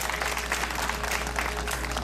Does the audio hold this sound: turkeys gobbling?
no